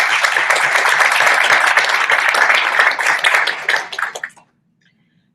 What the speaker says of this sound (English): So I'd like to offer a warm round of applause for Carrie Ann.